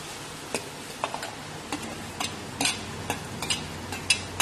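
Chicken pieces being stirred into a pan of curry give soft scattered scrapes and ticks over a low steady sizzle, close and fairly quiet with no talk.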